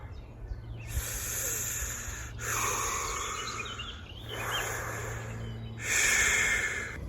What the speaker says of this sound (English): The only thing you can hear when you're under the water is the sound of your own breathing